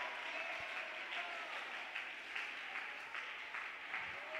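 A church congregation at a Spanish-language evening worship service applauds in a steady, sustained wash of clapping that fills the room, with no one speaking over it.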